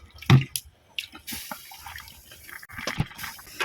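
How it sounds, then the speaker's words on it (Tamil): Water splashes and trickles into a pot of ragi kali in short uneven bursts, with drips and small splashes between pours, close by. "இன்னொரு டைம் தண்ணி ஊற்றணும்"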